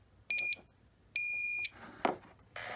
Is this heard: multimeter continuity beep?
yes